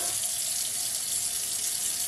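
Warm tap water runs steadily into a sink during an aseptic surgical hand scrub, a continuous, fairly loud hiss of flowing water with no talk over it.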